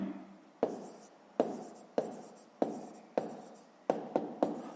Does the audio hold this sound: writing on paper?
yes